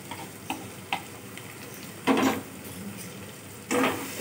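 Bitter gourd with garam masala being stirred in a pan, with a few soft scraping strokes, then two louder bursts of sizzling and scraping as the spoon turns the pieces, close and without any talk.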